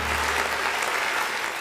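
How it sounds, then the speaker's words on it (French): Studio audience of a television talk show clapping together, a short, dense and even burst of applause at fairly strong volume, heard alone without talking. "Je vais applaudir aussi pour toutes les Guinéennes qui sont ici."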